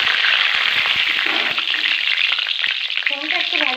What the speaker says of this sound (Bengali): এবার আমি তেলের মধ্যে ফোড়ন দেব, একটা শুকনো লঙ্কা আর গোটা জিরে।